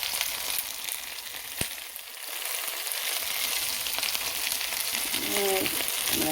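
Green onion, scallion and onion frying in hot oil with garlic for Jamaican-style curry chicken: a steady, continuous sizzle, with one sharp tap near the start and a short stir toward the end.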